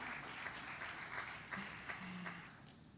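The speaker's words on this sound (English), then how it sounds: "Can we give them another round of applause," An audience at a conference event applauds, a steady patter of clapping from many hands in a hall, held at an even moderate level for a few seconds.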